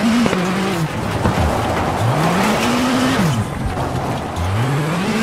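Rally car engine in WRC 8 roaring loudly with pitch sweeps as it brakes hard and downshifts into a hairpin, tyres squealing between repeated rises and drops in revs, no talk.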